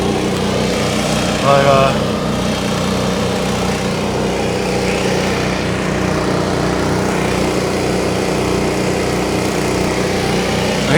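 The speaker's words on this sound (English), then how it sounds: "this guy wasn't sitting in front of my house with his compressor running." An air compressor runs outside in front of a house, giving a steady, continuous engine-like drone throughout, with a brief voice near the start.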